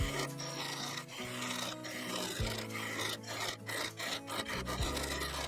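A 1/4-inch parting tool cuts into a sapele wood vase with epoxy resin turning on a lathe, giving a continuous rough, rasping scrape with a steady low hum underneath, close and fairly loud throughout.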